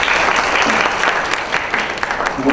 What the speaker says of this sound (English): let's give our candidates one more round of applause for coming out